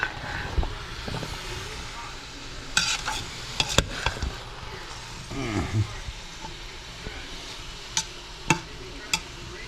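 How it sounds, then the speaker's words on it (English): Soft sizzle of fat rendering for pemmican in a pan, with occasional clinks and scrapes of a utensil stirring, plus a few sharp taps. "It's starting to sizzle a little bit. So I'll just stir it around."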